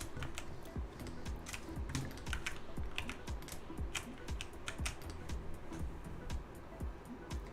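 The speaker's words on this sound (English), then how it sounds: "Your typing sounds like an A10 Warhawk." Rapid, continuous clacking of a computer keyboard, keys struck in dense quick bursts at a steady pace, fairly quiet and close with no talk.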